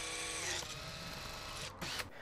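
A drill boring a 10mm hole into the metal chassis end of a Mazda MX-5 ECU, a steady close whirring grind that runs nearly throughout before stopping near the end.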